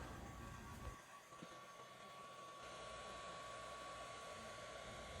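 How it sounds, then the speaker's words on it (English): A heat gun blows hot air onto a Game Boy Advance cartridge, a steady whooshing fan hiss with a faint tonal whine, recorded close and fairly quiet. "I'm also checking my wrist with the heat gun periodically"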